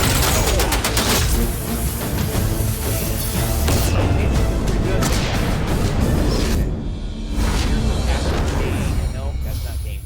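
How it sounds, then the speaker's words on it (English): Iron Man's micro missile barrage in Marvel Contest of Champions, a dense, loud run of overlapping explosions and blasts filling the whole stretch, with a brief lull near the end before the booms resume. "Iron Man sends his opponent flying with a pair of high explosive missiles. And then micro missile barrage."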